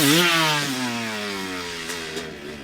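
A dirt bike's engine screams at high revs during a holeshot start, the pitch sliding as it pulls away. One loud, continuous, close whine fades slightly over a few seconds, with no voices.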